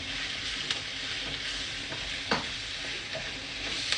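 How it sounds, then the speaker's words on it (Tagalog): Tomatoes and mung beans are stirred continuously in a hot pan for a monggo dish, a constant close sizzle broken by a few sharp spoon scrapes and knocks. "Continuous lang ang halo niyan"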